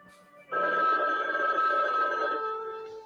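Telephone ringing in a horror movie commercial, one loud, sustained electronic ring starting abruptly and fading slightly toward the end, alone with no voices.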